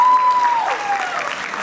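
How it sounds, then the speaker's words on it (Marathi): A crowd claps loudly and continuously at a wedding sangeet, a thick wash of applause holding steady, with a thin tone and faint voices underneath. "आणि तेवढ्याच जोरदार टाळ्या होऊन जाऊ देत श्रेयससाठी."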